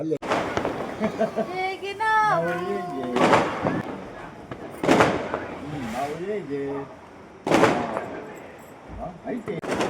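Several loud Diwali firecracker bangs, including an atom bomb cracker, burst at irregular intervals, sharp and close, while people talk and call out between the blasts.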